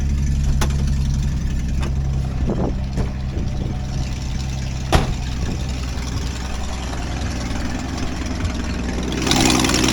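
1966 Ford Mustang engine idling with an exhaust manifold leak, a steady low rumble with faint ticking puffs throughout, plus a couple of sharp clicks near the middle and a rise in hiss at the end.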